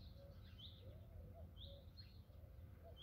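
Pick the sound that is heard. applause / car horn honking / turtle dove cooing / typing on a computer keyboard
turtle dove cooing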